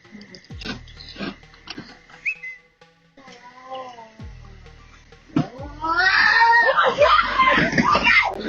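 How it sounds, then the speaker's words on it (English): A cat yowls and screeches in bursts, building to loud, frantic shrieking and scuffling near the end, with people's voices mixed in. "A guy fought off a stray cat and the result was hilarious."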